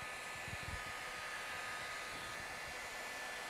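A heat gun blows steadily as car wrap vinyl is heated over a ridge, a constant, fairly faint hot-air roar with a whirring fan that holds level without pause and no voices.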